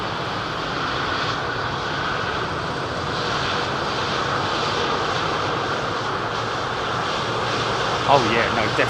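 An aircraft lands at London Heathrow Airport, a steady, loud engine roar that holds throughout the stretch, with people talking over it.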